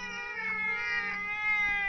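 A stray cat meows in one long, drawn-out, fairly loud cry close by, with no talking.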